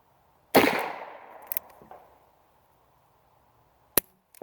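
Gunshots from a Ruger Blackhawk .357 Magnum revolver outdoors: one loud, sharp report with a long ringing decay, then several fainter clicks and pops and a second short sharp crack near the end.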